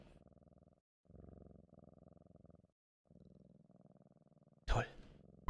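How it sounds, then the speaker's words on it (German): Soft, steady rhythmic cat purring in the video game No More Heroes 2: Desperate Struggle, in pulsing bursts with brief pauses, ending in a sudden loud crackling burst near the end. "Wenn man auf dem Klo sitzt und ganz leise ist, kann man die Katze schnurren hören."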